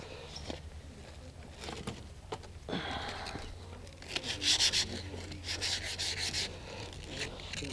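Fine sandpaper rubbing over small wooden parts of a rocket-boosted Rogallo wing glider, soft close scratchy strokes in short irregular bursts, quiet and alone.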